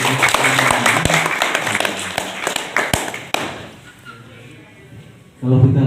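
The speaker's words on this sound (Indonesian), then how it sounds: "Tepuk tangan dong untuk teman-teman dari" Audience at a Lampung provincial plantation office event claps in a short burst of scattered, uneven hand claps that fade out, followed by a voice starting to speak.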